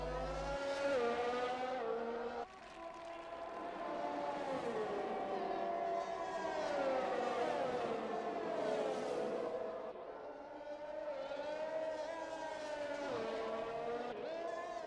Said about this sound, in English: Rumbles over the curbs under the hotel.